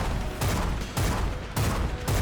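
In the video game Bloodshed, rapid gunfire bursts out in four loud, broadband volleys at roughly even intervals, dense and close, with no talking.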